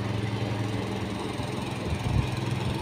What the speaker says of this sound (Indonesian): potong rumput apalah, kayak mesin, pakai mesin dorong nih